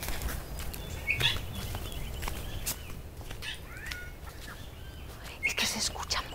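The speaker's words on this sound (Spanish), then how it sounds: "Es que se escuchan muchas aves y pájaros" Birds calling in mangroves near Huatulco, Oaxaca, Mexico: scattered chirps and short calls at middle distance over a steady outdoor hiss, with a few soft flutters, faint and intermittent.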